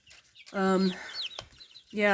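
Young chickens kept under a heat bulb make two bursts of clucking and squawking calls, the first longer and the second cut off, with a sharp click between them, heard up close.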